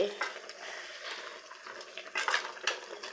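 Masala being stirred and mixed in a pan for a Kannada kori sukka dish: soft scraping and clinking of a spoon against metal comes in irregular bursts with faint sizzling, close and fairly quiet.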